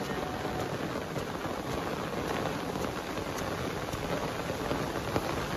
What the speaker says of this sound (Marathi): डोंगरावर पावसाने खूप सुरुवात केली.